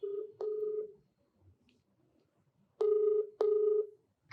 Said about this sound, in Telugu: సుప్రియ కాల్ చేయండి.